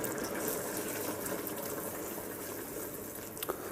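Steady rush of water pouring into a stock pot, continuous and fairly close, with no voices.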